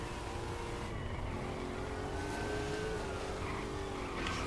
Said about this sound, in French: on peut jouer avec la petite moto de Robin aussi apparemment